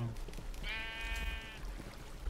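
A Minecraft sheep lets out a single drawn-out bleat, clear and fairly close, over a low ambient background.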